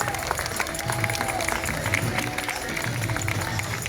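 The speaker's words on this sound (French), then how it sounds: "Et merci d'applaudir tous ces beaux figurants qui ce soir ont préparé ce grand cortège." Applause and cheering from a festival crowd greeting costumed extras in a Renaissance-fair parade, a steady broadband wash of many hands and voices heard from within the audience, with no gaps.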